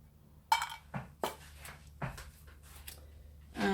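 Acrylic paint is stirred in a container, producing a handful of separate clinking, knocking taps spaced irregularly, close and fairly crisp against a quiet background.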